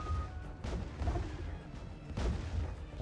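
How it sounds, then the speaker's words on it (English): Two large fleets bombard a planet in the space strategy game Distant Worlds 2, rendered as a rumbling run of muffled booms and crashing impacts with heavy low-end pulses. "let's dogpile on this thing and just bombard the heck out of it"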